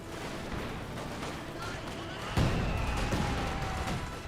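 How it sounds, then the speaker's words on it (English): Artillery barrage in the World War II strategy game Company of Heroes 2, a dense rumble of distant shelling with one heavier blast partway through, all continuous and loud. "And this barrage running on in."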